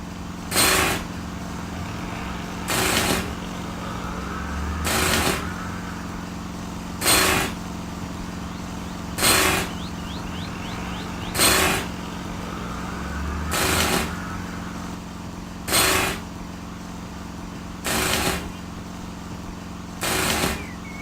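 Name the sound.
air compressor running, video game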